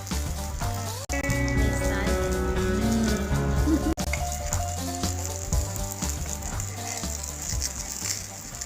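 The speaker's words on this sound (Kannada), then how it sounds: "ಈಚೆ ಸೈಡಲ್ಲಿ ಉದ್ದಿನ ದೋಸೆ ಆಗ್ತಾ ಉಂಟು" An urad dal dosa fries in ghee on a griddle, sizzling steadily up close while other kitchen noises and faint music play in the background.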